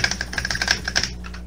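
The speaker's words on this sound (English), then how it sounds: "I can hear the keyboard" Rapid clattering of computer keyboard keys while playing Roblox, a close, steady run of light clicks for about a second before trailing off.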